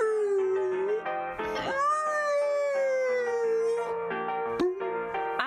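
A person imitates a whale call with a long, loud, wavering tonal moan that slides up and down in pitch, sustained for several seconds with brief breaks.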